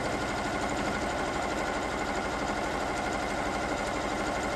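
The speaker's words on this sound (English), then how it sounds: "I'm stitching with red thread so that it will show up." A sewing machine stitches placemats with red thread, a steady, loud, fast mechanical whir that runs without a break.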